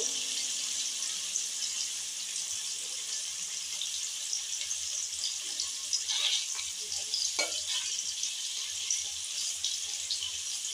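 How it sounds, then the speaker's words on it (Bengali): Paneer pieces fry in hot oil in a pan, giving a steady hissing sizzle with a few brief stirring clinks and sputters midway, close and fairly quiet throughout, with no voices. "এপিট ওপিট দুপিট করে সুন্দর করে পনিরগুলো ভেজে নেব।"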